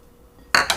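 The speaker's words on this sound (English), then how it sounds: "I'm going to cut it into my flour mixture" A pastry blender cuts chopped butter into a flour mixture for buttermilk biscuits, giving two quick, close metallic clinks against the bowl after a brief near-silence.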